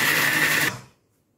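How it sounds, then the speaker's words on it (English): A kitchen blender purees peppers and onions in one loud, steady whir lasting under a second, then cuts off abruptly into silence. "Then I blend."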